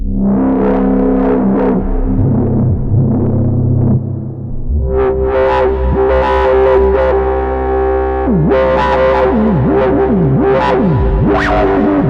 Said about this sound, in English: if I drop the octave, kind of sounds like a didgeridoo.